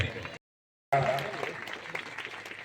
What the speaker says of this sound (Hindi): अपनी करतल ध्वनियों से स्वागत करें